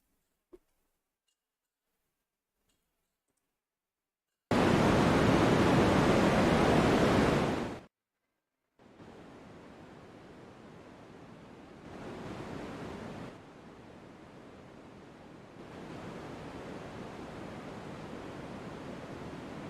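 Steady broadband white noise plays as background sound, starting with a loud burst that cuts out, then returning as a softer continuous hiss with slight swells, and no voices.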